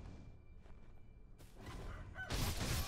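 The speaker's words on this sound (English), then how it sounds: "Oh god, another rooster." A rooster in the video game Sekiro: Shadows Die Twice clucks and squawks in short bursts over quiet ambience, ending in a louder flurry of flapping and fowl noise.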